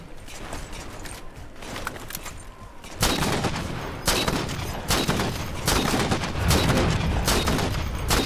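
Dense, sustained video-game gunfire in a chaotic firefight, starting moderately and growing louder after a few seconds into continuous rapid bursts with mechanical clatter, alone without talk.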